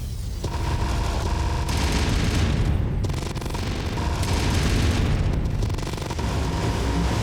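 Missile explosions in a MechWarrior mech battle: repeated heavy booms and rumbling blasts overlap in a continuous loud barrage with gunfire-like crackle.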